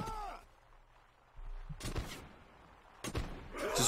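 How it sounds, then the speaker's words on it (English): Scattered bursts of gunfire in the game Warsword Conquest, a couple of sharp shots separated by quiet gaps, with a faint voice early on. "Just random gunshots."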